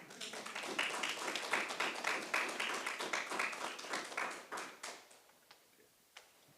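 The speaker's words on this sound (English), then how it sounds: "we'll just give you a round of applause to say thanks" A council meeting audience gives the speakers a warm round of applause, a dense run of many hands clapping that holds for about five seconds, then thins to a few last scattered claps.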